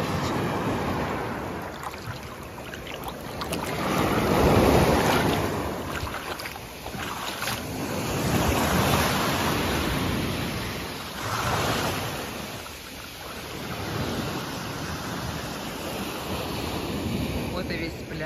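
Sea waves on a beach in Sochi, surf swelling and washing in slow repeated surges with strong wind buffeting the microphone, loud and close.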